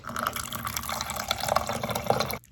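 Water running steadily into a cheap plastic cup from a classroom drinking fountain, a continuous close hiss and gurgle that cuts off abruptly at the end.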